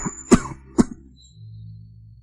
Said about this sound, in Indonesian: Kukira kamu sudah tidak batuk lagi.